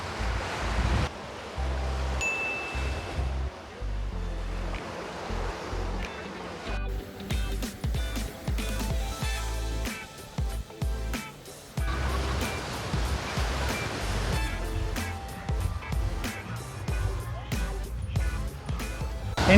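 Ocean surf washes onto a busy beach at Playa del Carmen, Mexico, in continuous rolling waves with wind buffeting the microphone and a voice talking throughout.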